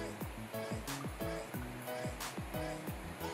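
Water pours into a container being filled for a water level switch at a water refilling station: a steady rushing wash with a quick, repeated gurgling glug throughout, close and fairly loud.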